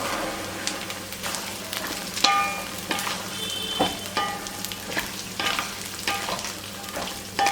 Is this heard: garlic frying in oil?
yes